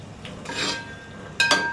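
A spoon stirring turmeric and coriander-cumin powder into potatoes for bhungla bateta, two close scraping, rasping strokes against the pan with quiet pauses between them.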